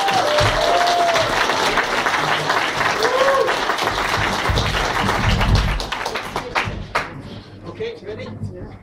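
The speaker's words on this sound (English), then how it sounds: "Big round of applause for Adam Woodhall." A live audience at a Leeds BettaKultcha event claps for a speaker in a loud, dense round of applause with faint voices and whoops under it, thinning and fading out near the end.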